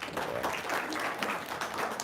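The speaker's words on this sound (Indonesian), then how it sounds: "Ya, tepuk tangan dong." Audience clapping at an Indonesian religious gathering, a steady dense patter of many hands lasting the full two seconds at moderate distance.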